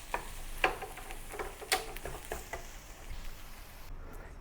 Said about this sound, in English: Saute until the onions turn soft